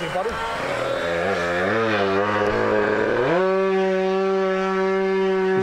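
An RC model plane engine at half throttle, a buzzing, high-pitched whine that wavers and swoops early on and then settles into a steady, sustained drone, loud and near.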